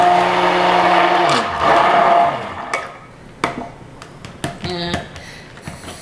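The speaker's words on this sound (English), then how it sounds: "Use my stick blender, so it may be a little loud." A stick blender mixes cold process soap batter with lye, a loud steady whirring hum that winds down after about two seconds, followed by scattered knocks and taps of the blender against the container.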